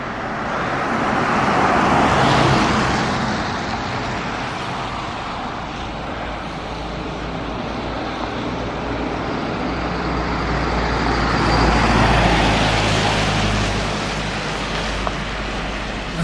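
Road traffic passing along a street, two vehicles swelling loud and fading away several seconds apart over a steady background rumble.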